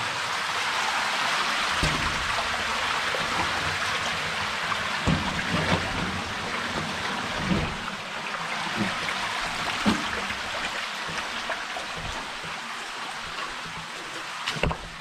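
A roaring waterfall inside a World War One German tunnel, a constant loud rush of falling water filling the space, with a few faint knocks and scrapes under it and no clear talk.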